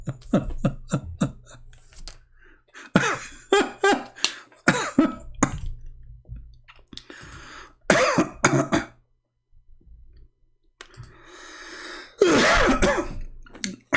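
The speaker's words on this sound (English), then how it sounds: "I apologize if I cough." Repeated coughing and throat clearing in short, harsh bursts, close by, with quiet pauses between the fits.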